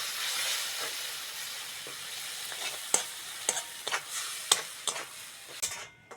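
Crab curry masala of chilli and turmeric frying in a pan, a steady sizzle broken by repeated sharp scrapes and stirs, close and fairly loud.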